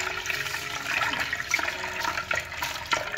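Water is poured over washed moong dal sitting in a sieve under a tap, a continuous close rushing and splashing stream that holds steady for a few seconds with no talk.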